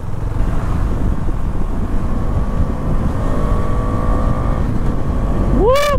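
A Husqvarna Vitpilen motorcycle roars along at high speed with steady wind rush and engine drone, then a rising engine whine sweeps upward at the very end.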